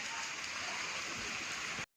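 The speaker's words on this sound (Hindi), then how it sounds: "ये हो रही है बारिश, ठीक है" Steady rain pours down outdoors, a dense, close hiss that holds level for about two seconds before cutting off abruptly.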